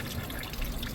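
Water running through the valve of a vertical hydroponic system, a steady close rush and trickle that stays even and continuous for the whole moment, with no talking.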